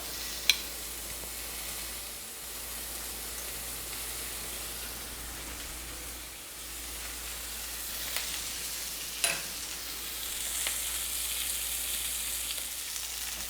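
Ahi tuna sears in a hot pan, left rare in the middle, giving a steady, fairly quiet sizzle across the whole stretch with a few faint clicks and bumps and no talking.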